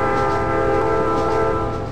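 Simulated Norfolk Southern freight train accelerating, a steady loud tonal drone with layered harmonic hum like a diesel locomotive engine or horn, continuous and close with no talk.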